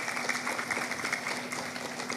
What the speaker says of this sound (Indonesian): Kasih aplaus, tanda tepuk tangan, tepuk tangan.